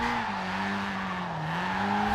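Toyota AE86 Trueno Enjuku Racing Edition drifting under handbrake in Forza Horizon 4, a sustained tire squeal over a steady, slightly wavering engine drone, continuous and close with no talk.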